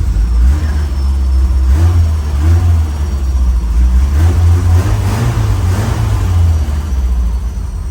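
A 1973 Lotus Europa Special, its engine loud and close, running with a low rumble and rising and falling through several blips of the throttle.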